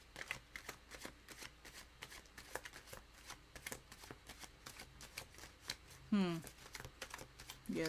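A new tarot card deck being shuffled by hand, a fast, dense run of close papery riffles and flicks throughout, with a short voice-like squeak near the end.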